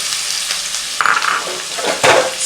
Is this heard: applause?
no